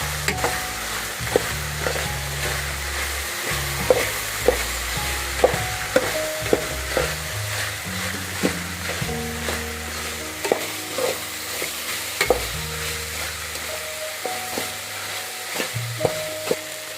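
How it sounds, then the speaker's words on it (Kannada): Ginger garlic paste frying in oil in a pan, a steady close sizzle under repeated scraping and tapping of a spoon as it is stirred, with no one speaking. "ಶುಂಠಿ ಬೆಳ್ಳುಳ್ಳಿ ಹಸಿ ಸ್ಮೆಲ್ ಹೋಗೋವರೆಗೂ ಚೆನ್ನಾಗಿ ಫ್ರೈ ಮಾಡ್ಕೊಳ್ಳೋಣ."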